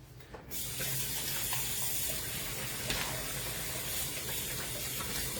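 A kitchen tap is turned on and runs water in a steady, broadband hissing gush that starts abruptly and continues evenly to the end.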